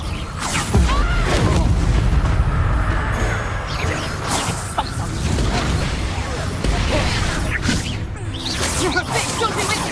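The Incendio fire spell goes off in Hogwarts Legacy, giving loud whooshing bursts and crackling flares that repeat through the stretch, mixed with clanks and thuds of combat.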